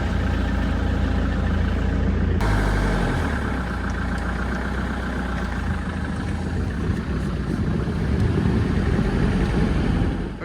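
A Land Rover Defender 90 diesel engine runs steadily up close, a rough low clatter that shifts as it pulls away, then a continuous driving drone with rattles for about ten seconds.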